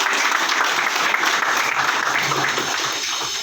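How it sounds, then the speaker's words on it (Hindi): A roomful of people claps loudly at a company branch-plan presentation, a thick continuous wash of applause held evenly for a few seconds with no voices on top. "जोरदार ताली होनी चाहिए सर"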